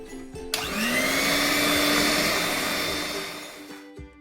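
An electric hand mixer whirs steadily, beating egg yolks with powdered sugar in a bowl for a chocolate sponge cake, starting abruptly after a brief quiet and running loud and continuous before cutting off.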